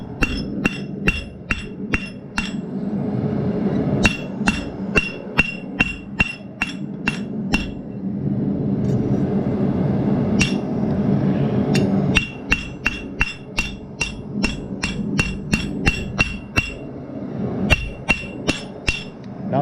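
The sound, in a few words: hammering to set a rivet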